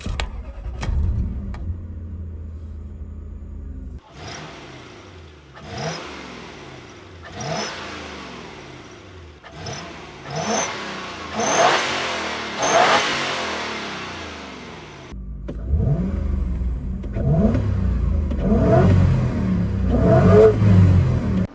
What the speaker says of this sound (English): Especially when it hits the rev limiter.